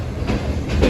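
Rehman Baba Express passenger train at Lahore station, a continuous rumble of rail cars with soft wheel clatter, fairly near and steady, with no talk.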